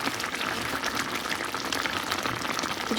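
A vegetable curry bubbles at a steady simmer in a pot, a close, continuous soft hiss of popping bubbles with no voices.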